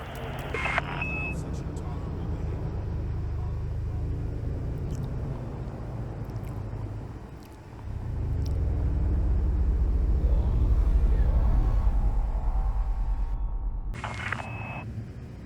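Spaceship departing a station in the space game Elite Dangerous, a steady loud low engine rumble that dips briefly midway and then swells back, with short electronic beeps near the start and end.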